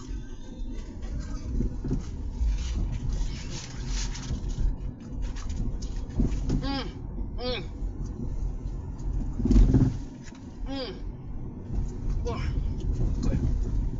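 A car creeps through bumper-to-bumper traffic under a 30 mph limit. A steady low engine and road rumble runs throughout, with pigeon-like cooing and other faint street sounds over it.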